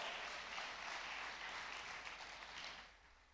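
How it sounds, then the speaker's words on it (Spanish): A church congregation at a service applauds with a continuous wash of clapping. It sounds faint and distant, holds steady, and then tapers off slightly at the end. "dale fuerte ese aplauso"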